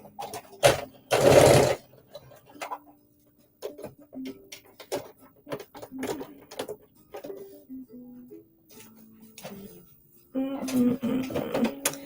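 Sewing machine stitching a jumpsuit seam, short bursts of rapid mechanical whirring and clicking separated by pauses, with a longer run of stitching near the end and a voice speaking between bursts.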